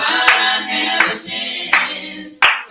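Four sharp, loud hand claps at a regular pace cut through sustained singing in a live-streamed performance.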